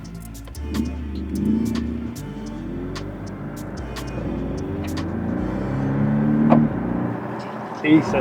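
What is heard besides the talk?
2018 Porsche 718 Cayman S driving in Sport Plus mode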